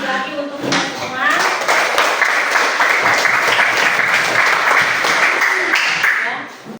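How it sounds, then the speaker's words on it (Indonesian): A group claps together at the close of a student presentation during an Indonesian teacher-training class, with steady, dense applause building quickly, holding for about five seconds and then fading out. "Kita berikan aplaus lagi untuk kita semua"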